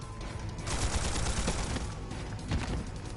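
An old antique gun fires in the video game Trails Beyond the Horizon, a rapid burst of loud, crackling gunfire that starts abruptly and rolls on continuously with a brief louder hit near the end.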